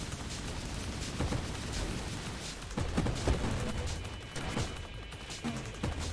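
Antimatter rounds burst against enemy projectiles in the space shooter game Nova Drift, a steady stream of crackling explosions and rapid impacts layered over continuous game noise, moderately loud with no talk.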